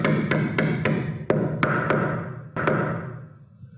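A hammer drives a nail through a fascia board into a roof rafter: a quick run of sharp, ringing strikes, then a few more spaced blows, close and loud over a low background rumble.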